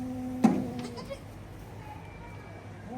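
A farm goat gives one short, loud bleat up close, then a softer sound follows amid low background noise.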